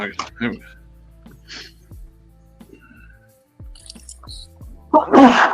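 A single loud, sharp sneeze bursts out at the very end, after a quiet stretch of small clicks, drips and soft handling noises at a hobby workbench where action figures are being customized.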